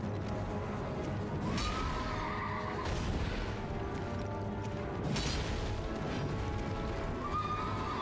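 A horse whinnying in the video game Elden Ring, two or three shrill neighs rising over a busy background of rumbling and clattering game effects.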